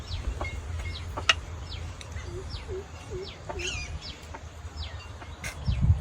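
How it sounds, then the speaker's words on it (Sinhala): Parrots squawk and chirp in short repeated calls over a low background rumble, the cries scattered irregularly and fairly close. "ඉතින් ගිරව් සද්ද කරනවා"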